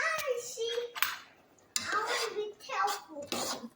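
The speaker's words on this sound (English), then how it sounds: "Let me stir it up a little bit." Portobello mushroom fajita meat is stirred in a pan, with close metallic scrapes and clanks of a utensil in short bursts, under intermittent speech.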